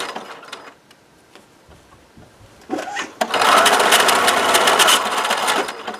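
A sewing machine stitches fabric in reverse for a back stitch, a quiet tapping start that swells after a pause into a loud, fast, steady mechanical rattle lasting a few seconds.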